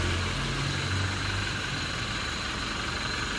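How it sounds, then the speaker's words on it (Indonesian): A Toyota Innova Reborn 2.5 diesel automatic, 2021 V trim, idles with the air conditioning off, giving a steady low rumbling drone with constant vibration, close and unbroken throughout, with no voices. "mesin idle tanpa AC."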